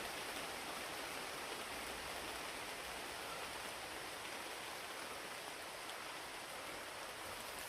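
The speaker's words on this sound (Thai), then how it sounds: "ฝนตกใหม่เลย" Rain pours down steadily in a dense, even hiss with no pauses or distinct drops, close and continuous throughout with no voices.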